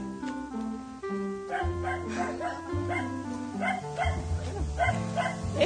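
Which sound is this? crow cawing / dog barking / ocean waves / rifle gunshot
dog barking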